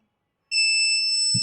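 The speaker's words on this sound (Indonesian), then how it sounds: "ada bunyi buzzer" An electronic buzzer on an IoT board sounds as soon as a green button is pressed, giving a steady, loud, shrill electronic tone that holds unbroken to the end of the clip after a moment of silence.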